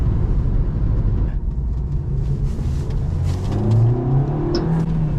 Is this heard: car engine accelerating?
yes